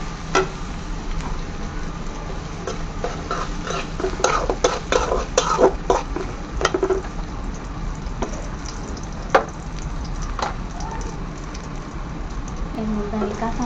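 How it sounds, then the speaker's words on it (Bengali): Goat brain frying in oil in a pan, with a steady low sizzle under repeated spoon scrapes and clatter against the pan, close and fairly loud, with a sharp clink near the end. "এখন আমি আরেকটু তেল দিলাম, সুন্দর করে ভাজবো"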